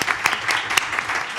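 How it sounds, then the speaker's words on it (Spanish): Audience applause at a data protection and security forum, a short dense burst of many hands clapping in a room, fairly loud and steady. "Un aplauso para Unai."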